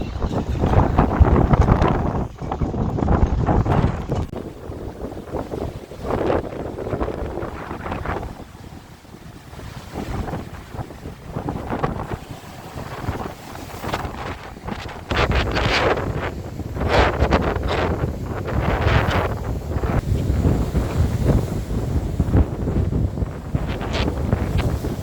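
Strong gale of around 100 km/h buffeting a damaged sailboat moored on the Côte d'Azur, a loud continuous roar of gusts and microphone wind rumble with sloshing water and irregular knocks and creaks of the moored hull, with no talking.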